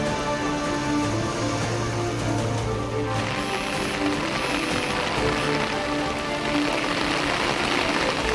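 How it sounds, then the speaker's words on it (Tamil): Steady rain across parts of Tamil Nadu, a dense continuous hiss of drops on surfaces, even and unbroken throughout. "கள்ளக்குறிச்சி, சேலம் உட்பட தமிழகத்தின் பல்வேறு பகுதிகளில் பரவலாக மழை."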